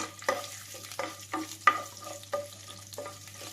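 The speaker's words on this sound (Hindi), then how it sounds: "इनको लगातार चलाते रहेंगे, हल्का हल्का सेकना है इनको।" Whole spices, including a cinnamon piece and a few garlic cloves, are stirred and roasted in a pan with a series of close, distinct scraping and clattering strokes over a faint, quiet background.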